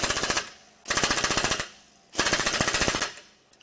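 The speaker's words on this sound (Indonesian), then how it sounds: "3 kali tarikan pelatuk yang baik dengan bor impak sudah lebih dari cukup untuk mengamankan kepala pembuangan pada tabung kardoks." An impact drill tightens a discharge head onto a Cardox tube in three separate bursts, each a loud, rapid hammering rattle lasting about a second, with short pauses between them.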